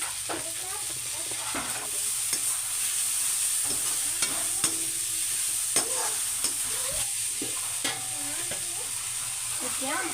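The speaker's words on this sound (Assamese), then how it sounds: "এতিয়া ঢাকোন মাৰি মই কম জুইত আৰু 1 মিনিটমান সময় ভাজিম।" Brahmi greens and chickpeas sizzle in a pan over low heat with a little oil while a spoon scrapes and stirs them in repeated strokes, close and steady.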